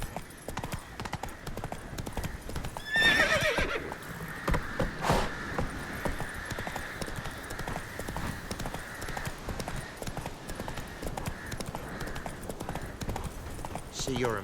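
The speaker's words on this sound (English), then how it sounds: "Run, Roach" A horse gallops in The Witcher 3 video game, with steady, close clip-clop hoofbeats running throughout, a brief whinny early on, and voices talking over the hooves.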